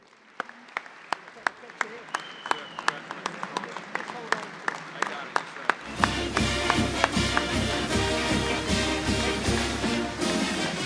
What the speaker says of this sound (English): A round of applause, Steve Spurrier.